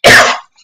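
A single sharp, loud cough up close, followed by a brief quiet catch of breath.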